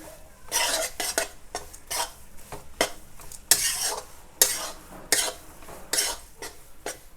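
Stirring flour roasting in ghee in a pan for magas laddu: repeated scraping strokes of a spoon against the metal pan in an irregular rhythm, close and clear, with a faint sizzle and no talking.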